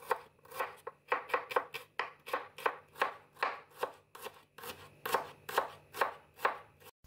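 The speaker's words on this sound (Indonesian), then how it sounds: "ini ada 6 siung bawang merah, diiris-iris tipis" Six shallot cloves sliced thinly with a knife on a board, giving a quick, steady run of about twenty crisp, close chopping taps with brief pauses, and no voices.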